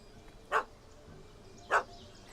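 Two sharp, separate dog barks about a second apart in The Witcher 3 video game, fairly close and clear over a quiet background.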